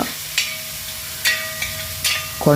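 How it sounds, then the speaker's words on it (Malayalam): Shallots, onion and green chillies sautéing in oil, a soft close sizzle broken by a few sharp spatula scrapes against the pan, with a louder clatter at the end. "നമ്മുടെ ഉള്ളി, സവാള, പച്ചമുളക് എല്ലാം വിട്ട് വഴറ്റിക്കൊണ്ടിരിക്കുക."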